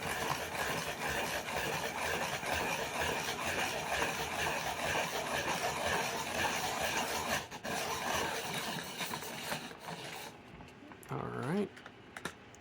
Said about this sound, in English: go ahead and sharpen two pencils